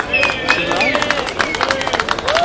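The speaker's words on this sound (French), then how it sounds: "à qui on devra encore donner une bonne main d'applaudissements, je pense" Audience applause for the co-founders of a community organization at an outdoor public event, dense clapping mixed with cheering voices and whistles, loud and sustained.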